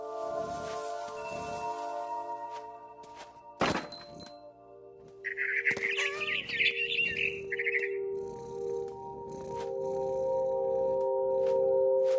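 A barn swallow gives a quick cluster of twittering chirps in the game What Remains of Edith Finch, following a loud thunk, with soft tonal game music and faint movement sounds around it.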